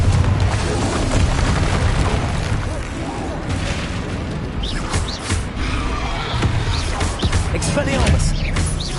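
Confringo fire spell explosions in Hogwarts Legacy: repeated booming blasts and crashing impacts over a rumbling low end, loud and dense, with a voice heard between the bursts.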